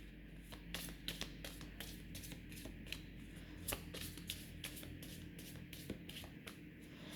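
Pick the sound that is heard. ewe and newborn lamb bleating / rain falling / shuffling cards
shuffling cards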